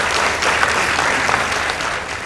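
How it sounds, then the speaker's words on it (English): Audience applause fills a school debate hall after results are announced for Makueni Boys High School in a semi-final against Kathiani Girls High School, steady dense clapping, fairly loud and sustained throughout. "Let's give them a round of applause."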